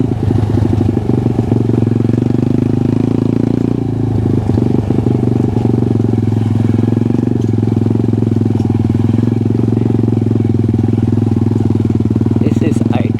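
A CF140 pit bike with a swapped-in Lifan 140cc engine is ridden, its small single-cylinder motor buzzing loud and close with steady throttle, brief revs and clattering over bumps, with a voice talking over it.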